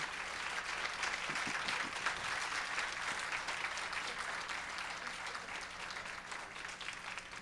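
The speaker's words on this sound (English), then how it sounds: "Let's give a round of applause for all of the candidates." Audience applause for the candidates at a city council candidate forum, a steady wash of many hands clapping that holds evenly for several seconds and tapers slightly at the end, with no one talking over it.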